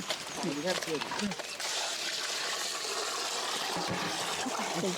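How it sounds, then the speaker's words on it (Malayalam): Running water gushing into a pot while beef is washed in a Kerala village kitchen, a steady pour after brief talk at the start. "നമ്മുടെ പോത്തിറച്ചി ഒന്ന് കഴുകി വൃത്തിയാക്കി എടുക്കാം അല്ലെ വെള്ളം ഒഴുക്കി"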